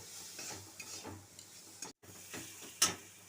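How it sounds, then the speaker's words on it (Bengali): Mango for a mustard mango chutney fried with turmeric and salt, stirred in a pan: soft scraping stirs repeat with a light sizzle underneath, ending in one sharp clink near the close. "আমি এর মধ্যে একটুখানি হলুদ দিলাম, একটুকু নুন দেবো, দিয়ে একটু একটু ভাজা করব।"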